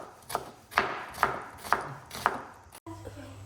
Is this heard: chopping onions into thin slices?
yes